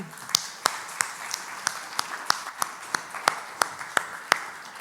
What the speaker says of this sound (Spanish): dale un aplauso bien